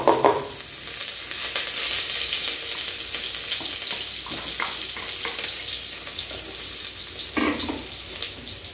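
Onion, pig feet and ears sizzle in a pot with already-fried calabresa sausage and pork loin for feijoada, a steady frying hiss throughout with occasional stirring bursts, close and fairly loud, no talking.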